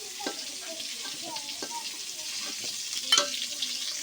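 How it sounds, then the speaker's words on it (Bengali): Bottle gourd pieces frying lightly in oil give a soft, continuous sizzle with a few light stirring taps and one sharper clink near the end, close and fairly quiet. "যে এরকম হালকা করে লাউগুলোও ভেজে নিচ্ছি"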